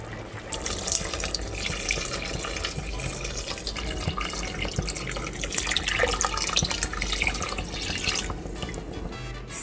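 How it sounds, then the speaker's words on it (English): Water runs steadily from a tap into a soup pot for a winter soup, a continuous loud splashing stream with bright hiss and gurgles lasting throughout, no talking. "So at this stage you want to add water."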